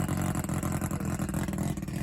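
A car engine revving hard during a burnout at the Freedom Factory makes a loud, continuous, close roar that pulses slightly as the revs waver, with no voices over it.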